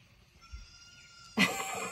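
A baby goat gives one loud, close, shrill bleat at the end, following a stretch of quiet background.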